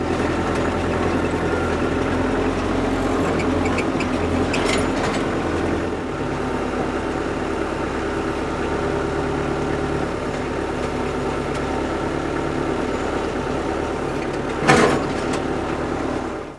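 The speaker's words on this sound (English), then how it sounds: "we're gonna try to just push them in the ground with the tractor" A tractor engine rumbles steadily and close while pushing metal T-posts into the ground for a homestead garden fence, with the low drone shifting slightly partway through and a short knock near the end.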